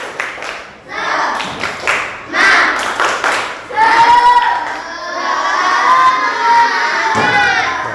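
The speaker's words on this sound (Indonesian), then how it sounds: "Tepuk semangat." A classroom of students performs a rhythmic spirit clap, a quick burst of sharp, close hand claps followed by loud, excited group shouting and cheering that fills the room.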